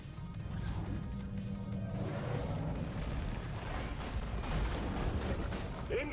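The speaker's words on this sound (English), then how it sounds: "Supply drop has been ordered." In Deep Rock Galactic, a supply pod comes down with a loud, sustained rumbling crash of heavy impacts and debris, while a voice talks over the din.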